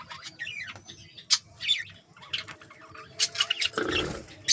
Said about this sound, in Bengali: চলো তোমাদের নিচের পাখিগুলো দেখাই।